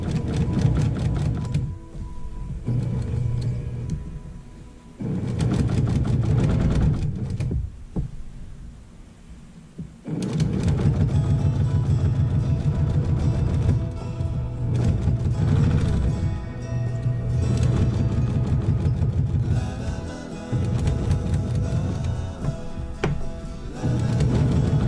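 A sewing machine stitching prairie points onto a quilted table runner, running in long steady bursts of rapid rhythmic needle thumping with a low hum, pausing briefly between runs, close by.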